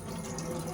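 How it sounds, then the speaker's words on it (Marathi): Tap water runs steadily into a kitchen sink while bangda mackerel fish are rinsed, a soft continuous splash heard close and fairly quiet for under a second. "तर चला गाईज आपण आता वॉश करून घेऊ फिशला."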